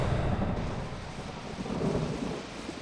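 A thunderstorm with heavy rain at a NASCAR Winston Cup race, a deep rolling thunder rumble over a steady wash of rain, fairly faint and continuous with no voices.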